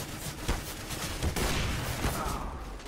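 Rapid bursts of rifle gunfire in the Counter-Strike video game, several sharp overlapping shots crackling close and loud over about three seconds.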